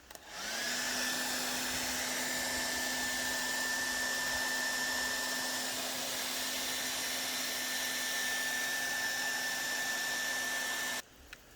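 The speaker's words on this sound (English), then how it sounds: "I'll just actually keep the blow dryer going" A hair dryer switches on and blows with a steady high whine and rushing air for about ten seconds, then cuts off.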